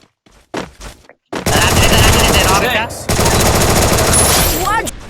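Gunfire in the Free Fire video game during a tournament match: a few scattered shots, then sustained loud automatic bursts with brief breaks, close and dense.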